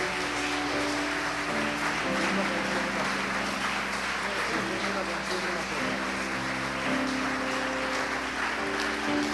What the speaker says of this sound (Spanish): Aleluya, fuerte ese aplauso.